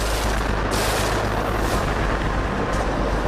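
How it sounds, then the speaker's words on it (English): Bombs dropped by Russian Su-25 strike jets hit the ground in Ukraine, a loud sustained roar of blasts and rumbling booms filling the whole stretch without pause. "The unsettling clip captures the bombs hitting the ground and the two jets then streaking away."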